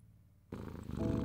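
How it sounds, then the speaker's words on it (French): A black cat purring softly beside a fireplace in a living room, a low continuous rumble that starts abruptly and swells slightly, close and steady with no voices. "Il se glisse tout contre le cœur de son humaine et ronronne doucement."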